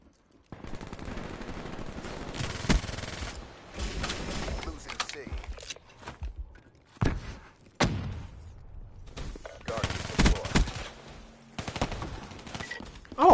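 Gunfire in a PS4 first-person shooter match: loud repeated bursts of automatic fire with sharp single shots, overlapping game effects and bits of in-game radio voice, continuing across the whole stretch.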